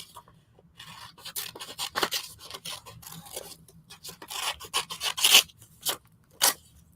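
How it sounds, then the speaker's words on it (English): Scissors snip through paper to cut out small concept-art characters for an Alice collage, giving a run of short crisp rasping cuts at close range that come in irregular bursts with brief pauses between them. "Let me just cut that out there."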